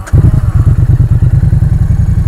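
A 2016 Triumph Street Twin 900 cc parallel-twin motorcycle starting, a brief starter catch and then a loud, close, lumpy idle with a steady rapid throbbing beat.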